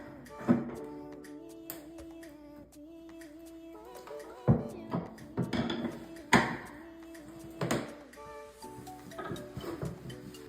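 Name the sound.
screwdriver turning a bathtub drain counterclockwise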